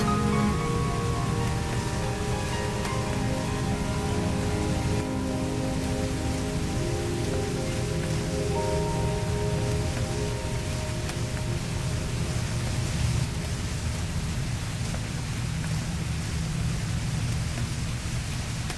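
Steady rain falls continuously, an even dense hiss of drops on surfaces with no voices.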